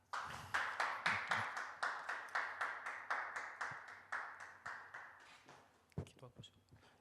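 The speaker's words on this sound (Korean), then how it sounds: "뜨거운 박수로 환영해 주시면" Steady rhythmic clapping from a seated audience welcoming a guest speaker to a Christian academy lecture, evenly paced claps close by for about five seconds, then stopping as a voice begins speaking.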